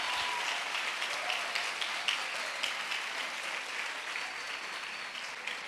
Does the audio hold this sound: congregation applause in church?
yes